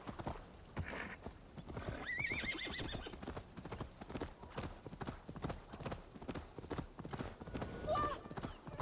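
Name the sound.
horse galloping and neighing in video game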